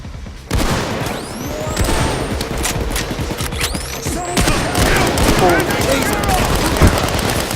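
Rapid automatic gunfire crackles through a Payday 2 heist, with dense overlapping bursts and some louder booms. Game effects sound throughout.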